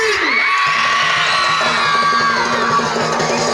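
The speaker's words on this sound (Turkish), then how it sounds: "Çığlıklar gelsin." A crowd at a Roma engagement party cheers and screams loudly and continuously, with shrill whoops and high voices layered over rhythmic music.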